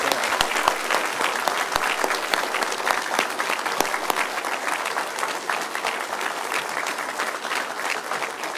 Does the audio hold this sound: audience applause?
yes